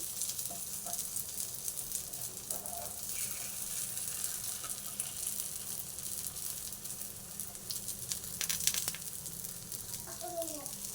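Flatbread browns in a hot pan, giving a soft, steady sizzle throughout with faint scraping near the end.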